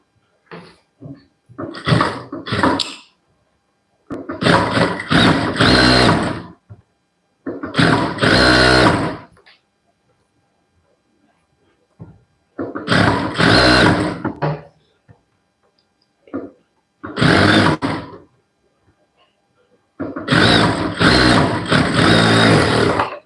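A sewing machine stitches an Aari work blouse, running in short whirring bursts of a second or two, separated by pauses of near silence.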